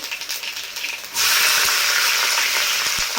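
Mustard seeds dropped into hot oil in a pan, a softer sizzle that bursts into a loud, dense, continuous crackle, with a few faint knocks underneath.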